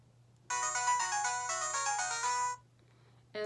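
A toy phone plays a bright electronic ringtone melody after its phone button is pressed, loud and close for about two seconds, then stops briefly before starting again.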